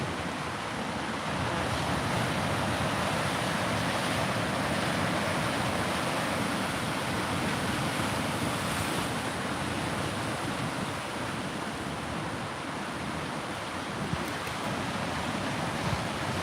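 Ocean surf rolls steadily onto a sunny Northern California beach, a constant broad wash of breaking waves with wind noise on the microphone, no voices.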